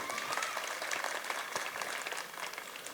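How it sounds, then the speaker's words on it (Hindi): Crowd at a municipal corporation election campaign public meeting breaking into sustained applause, a dense steady wash of many hands clapping at fairly even loudness throughout. "ताली बजाओ उनके लिए।"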